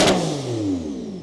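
A custom-built car's engine revs hard at 38% throttle, a loud, close roar that drops steadily in pitch over a moment as the revs fall away.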